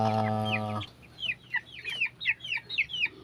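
Baby chicks cheep in a rapid series of bright, high chirps, close and fairly loud, after a brief steady low drone that cuts off at the start.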